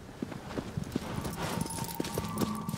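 Horse hooves clip-clopping at a steady gallop in the PS4 remake of Shadow of the Colossus, rhythmic beats over a low game ambience with a faint tone.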